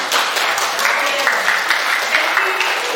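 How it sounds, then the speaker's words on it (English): An audience of students at a high school English debate competition claps loudly and continuously, a dense, close round of applause with a few faint voices mixed in. "Let's big applause, please, for us."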